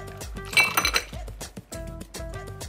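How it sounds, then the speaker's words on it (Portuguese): Glassware and metal bar tools clink and clatter while an alcoholic cocktail is mixed and poured, a run of close, bright knocks and chinks in uneven bursts with short pauses between. "Mixando coquetel alcoólico."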